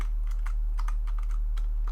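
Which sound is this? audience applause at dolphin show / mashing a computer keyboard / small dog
mashing a computer keyboard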